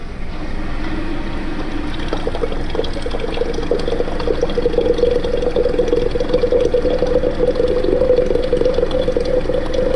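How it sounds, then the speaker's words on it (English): Steady rushing of cold water pouring into a French press, a continuous loud stream with a rising gurgling tone as it fills. "I'm first going to fill it up with cold water."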